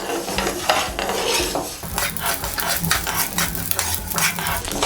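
Ingredients frying in oil for an instant red chilli pickle, a loud close sizzle with vigorous, repeated stirring and scraping of a spoon against the pan throughout.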